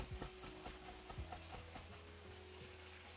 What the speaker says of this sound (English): Oh, I hear some crazy sizzles back there.